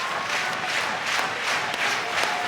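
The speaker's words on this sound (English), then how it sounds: "The crowd getting right behind him." A large stadium crowd roars steadily and loudly for javelin thrower Chopra's attempt during an evening athletics session at Glasgow 2026, a dense, continuous swell of cheering with no clear individual voices.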